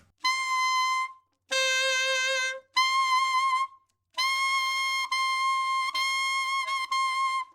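A saxophone plays a high altissimo note, around high F, using a fork fingering. It comes as a handful of clear sustained blasts separated by short gaps, close and solo.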